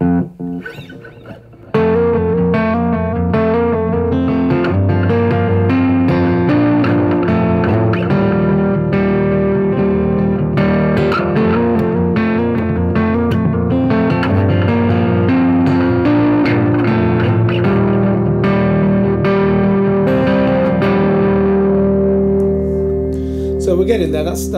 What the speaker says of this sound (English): So I've got my delay pedal turned on now